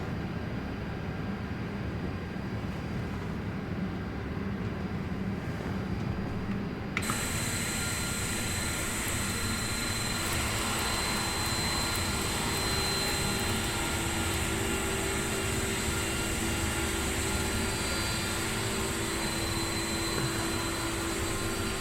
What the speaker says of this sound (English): Okay, good start in 1, starting 2. Clear 2. Engine 2 start.